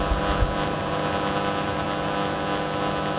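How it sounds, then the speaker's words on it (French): A low-flying airplane passes far off, heard as a faint, steady engine drone with a soft low thump near the start and no voices over it. "il y a un avion qui passe vraiment à ras le sol"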